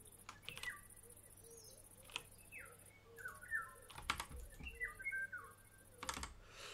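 Pigeon-like bird calls in the horror video game Siren Head: The Arrival, short chirping and cooing phrases repeating over a faint background with scattered clicks.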